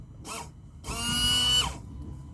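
A Renault Clio 3 windshield washer pump whirs in two bursts, a short one then a longer steady whine that winds down, close by with no talking.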